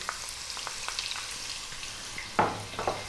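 Cumin seeds, onion and carrot fry in a pan with a quiet, crackly sizzle and scattered small pops, capped by a couple of sharper spatters near the end.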